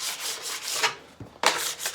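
A plastic scraper drags across a snowboard base to strip off old wax, giving a few broad rasping strokes with a short pause between them, close by and without speech.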